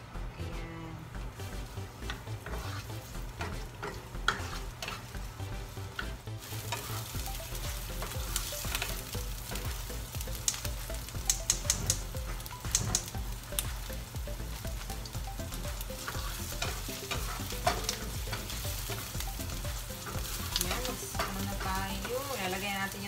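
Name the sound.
garlic sautéing in a pan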